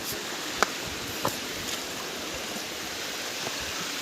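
A waterfall gives a steady, even rush of water in the background, with a couple of faint clicks and knocks over the top.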